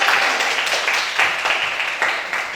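Applause from a class of students following a teacher's cue in an Indonesian school lesson, a steady wash of many hands clapping at moderate loudness with slight swells, no talk over it.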